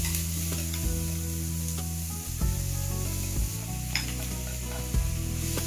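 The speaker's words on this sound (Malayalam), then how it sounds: "നന്നായിട്ട് എണ്ണ ചൂടായി" Chopped onions sizzle and fry in hot oil in a pan, a close, steady crackling hiss with a few soft stirring knocks and no voices.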